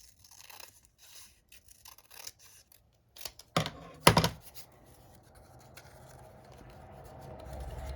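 Scissors snip through paper while trimming a strip thinner for a journal embellishment, a few crisp close cuts and crunching slices in the middle, with quiet handling rustle before and after.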